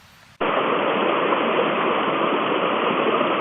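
Water discharging from a dam upstream rushes in a loud, steady broadband roar, starting abruptly after a quiet moment and continuing unbroken, close and without any talk.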